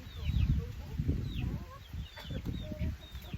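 Chickens cluck and chirp around a countryside yard, several birds calling close by in a steady busy chorus, with people talking quietly over them.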